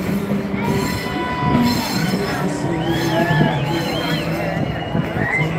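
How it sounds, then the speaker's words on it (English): Old trains roll past on rails during an outdoor anti-globalist demonstration in Dublin, wheels squealing in drawn-out high tones over a continuous rumble, with crowd chatter and voices mixed in. "There's the old trains,"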